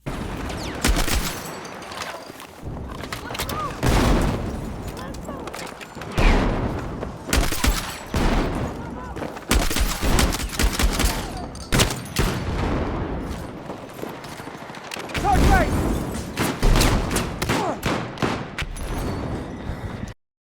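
An M1014 semi-automatic shotgun in Battlefield 6 fires in quick bursts of loud, booming shots, with other gunfire and game noise between them and short quieter gaps, no talk.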